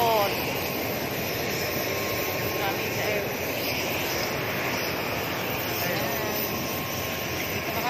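A steady roar of aircraft engines fills the air at Bicol airport just after landing, loud and unbroken, with a faint voice beneath it.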